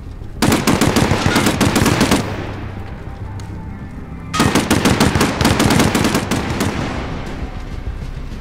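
Gunfire in Call of Duty: Modern Warfare, two long, loud bursts of rapid automatic fire separated by a quieter stretch of echoing battle ambience.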